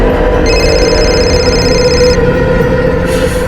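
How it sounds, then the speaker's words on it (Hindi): A steady electronic ringtone with repeating tonal chimes plays for a few seconds, loud and close against a humming background. "आई का फोन आ रहा है।"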